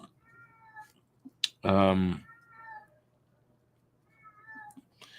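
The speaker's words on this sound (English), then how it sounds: "This is of course meowing." A cat lets out one loud, drawn-out meow up close, between bits of quieter talking from a man nearby.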